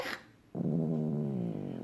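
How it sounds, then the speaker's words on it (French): An old small dog growls in one low, sustained rumble lasting over a second, close and fairly quiet, with no talk over it. "Tu montres que tu grognes."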